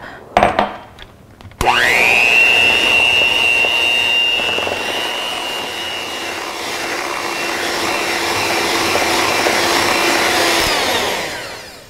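An electric hand mixer starts with a sharp rising whine after a few handling knocks, then runs loud and steady through cream cheese frosting, its pitch shifting slightly as it works, before it stops.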